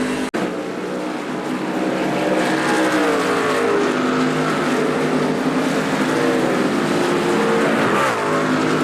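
NASCAR race car in iRacing at Watkins Glen, a loud continuous engine roar close up, pitch sliding down and climbing again through gear changes and throttle shifts, without talk.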